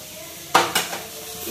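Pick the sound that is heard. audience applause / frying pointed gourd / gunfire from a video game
frying pointed gourd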